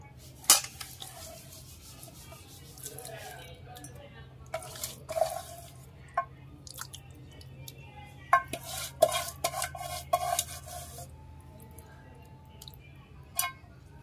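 A spoon stirs oil into a ridge gourd mustard curry in a pot, with intermittent scraping, clinks and wet squelches over quiet background hum, sparse and close, with no talking.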